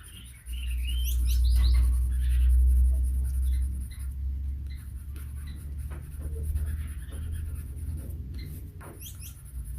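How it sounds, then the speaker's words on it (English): Birds twitter and chirp in the background with scattered high calls over a low steady rumble, while someone draws with colored pencil indoors. "That's the birds in the background, if you're wondering what all the twittering is about."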